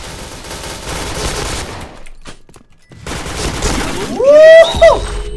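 Famas G2 Commando rifle fire in the online shooter Point Blank: loud rapid bursts, a brief lull, then more automatic fire topped by a rising game alert tone.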